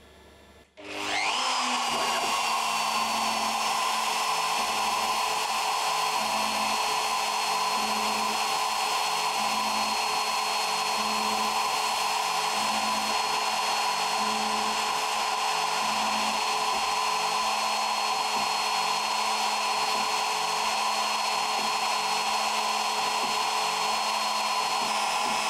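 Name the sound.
machine engraving plexiglass pieces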